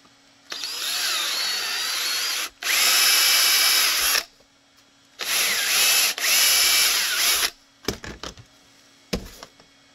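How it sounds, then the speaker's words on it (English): A power drill with a 7/32 bit bores through a Kydex AR-15 magazine holder in two long whining bursts separated by a short pause, followed by a few brief stuttering spurts, close and loud. "I'm going to drill out the MRDs. So I'm going to use the same bit that I used for my retention"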